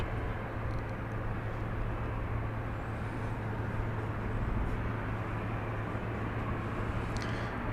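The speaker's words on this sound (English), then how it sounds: "Incoming right now, flight 1866 from Kansas City, 737-700." A Boeing 737-700 airliner arrives at Dallas Love Field at night, a steady loud roar of engine and rushing noise held evenly throughout, with no speech.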